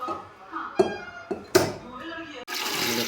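Water goes into a cooking pot for rice on a home stove, first with a few hollow knocks and clanks of the pot, then a steady rushing pour at the end, with a person talking in between.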